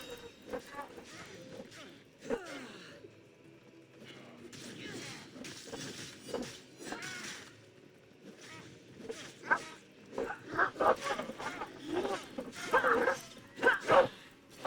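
A dog barks and yips in the video game Assassin's Creed Odyssey, short bursts scattered among game sounds while someone talks over them.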